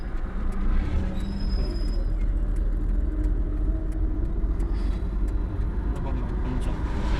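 A car driving during a driving lesson, a steady low engine and road rumble holding at an even level from start to finish, with faint higher whine and no clear speech.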